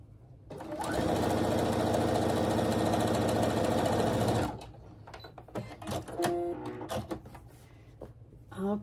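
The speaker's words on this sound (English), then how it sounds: "we're going to sew right down this side" A sewing machine stitches quilt fabric pieces together in one steady, fast, humming run of about four seconds, close and clear, then stops, followed by fabric handling and small clicks.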